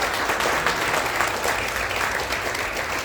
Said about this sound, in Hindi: जोर से तालियां हो जाओ।